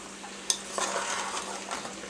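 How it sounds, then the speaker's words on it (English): Meat for carne guisada sizzles steadily in a hot pan while a utensil scrapes and stirs, with a sharp clink of metal near the start; close by, no talking. "I'm frying all this together"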